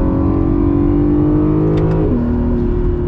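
A new Acura NSX engine drones at a steady high pitch, then the tone drops abruptly as it shifts and keeps pulling, loud and close.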